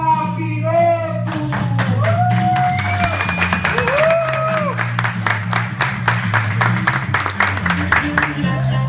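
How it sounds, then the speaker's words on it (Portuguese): A TV show studio audience claps in rhythm to welcome a guest, loud and steady over lively music, with shouts and cheering mixed in. "Recebam com aplausos ele"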